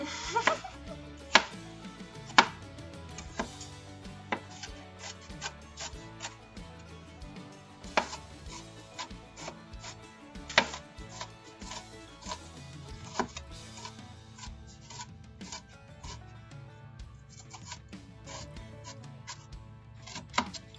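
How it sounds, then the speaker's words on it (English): Onions are chopped with a knife on a cutting board for a German dish, making sharp, irregular taps and thuds, some loud and some soft, close up over a quiet background. "Just cutting up the onions now."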